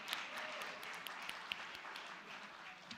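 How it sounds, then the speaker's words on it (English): An audience at an accountants' conference applauds its panel members with sustained clapping from a moderately distant crowd, steady for the whole stretch with a few sharper individual claps standing out. "Can we have a big round of applause to these panel members, please?"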